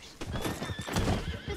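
A horse in Red Dead Redemption 2 lets out a loud neigh and whinny lasting over a second, with hoof clip-clops and a rough, breathy texture, ending in a sharp burst.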